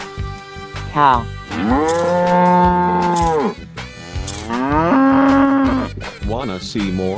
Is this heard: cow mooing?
yes